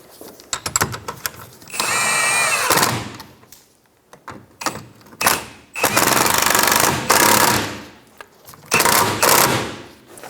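A power tool snugs down the rear sway bar bracket bolts on a 2007-2012 Nissan Altima, firing in several loud, rattling bursts of uneven length with quiet gaps and clanks between them.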